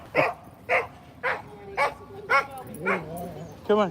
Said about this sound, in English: Loudmouth dog coming.